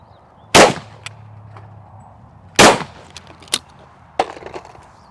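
Two loud, sharp shotgun blasts from an inexpensive shotgun fired at clay targets, spaced about two seconds apart, followed by lighter clattering knocks; no talking.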